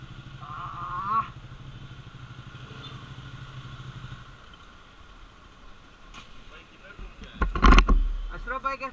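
Ducati 899 motorcycle being ridden, a steady engine drone with a rising rev near the start and a loud burst of wind and rumble near the end.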